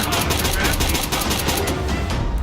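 Rapid video-game gunfire rattles in a dense, continuous burst of shots through the whole stretch, loud and close, with a voice faintly mixed in beneath.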